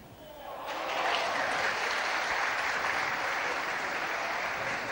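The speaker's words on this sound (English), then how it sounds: "Once again, we hear the applause from the adjoining room, where Charlton from Australia is playing" Steady applause from a neighbouring room at a 1973 snooker tournament in Norwich, rising after a quiet half-second into a dense, sustained wash of clapping heard at a slight distance.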